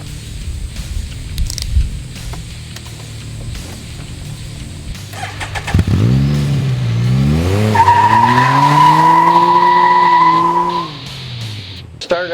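A Can-Am Spyder three-wheeler fitted with Elka suspension rides past with a rising engine note that climbs and holds a steady whine, loud and close, with no voices.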